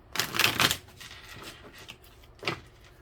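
A quick riffle of tarot cards shuffling close by, followed by a few soft taps and one more short shuffle.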